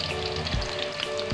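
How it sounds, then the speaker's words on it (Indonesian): Cassava pieces fry in a pan of hot oil in a home kitchen, giving a close, continuous sizzle dotted with small crackles and pops, with no talking over it. "Dan ini goreng singkongnya lumayan banyak gitu."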